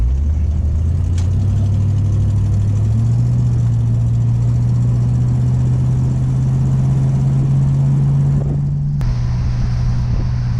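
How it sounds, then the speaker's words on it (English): A 1985 Ford Mustang LX 5.0 V8 convertible idles roughly with a loud, close, low droning rumble, its pitch creeping up and then dropping slightly near the end, with no talk over it. "This idle's crap. Idle is garbage."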